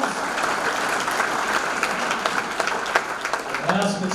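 A crowd at a sports hall of fame ceremony gives a steady round of applause for event sponsors, continuous dense clapping throughout with a voice rising near the end.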